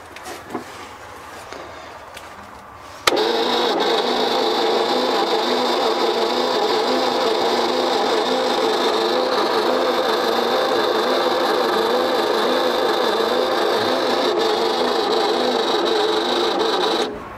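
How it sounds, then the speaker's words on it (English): A truck engine with a weak battery cranks steadily and sluggishly in a slow, labored rhythm after a brief quiet start, with no catch or firing, loud and close. "Sounds like our battery's dead, don't it?"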